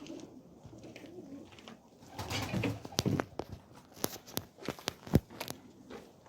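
Flying pigeons at a rooftop loft in Fiska, Diyarbakır, cooing and shuffling nearby, with soft coos, scattered footsteps and sharp clicks or wing-claps in an irregular rhythm.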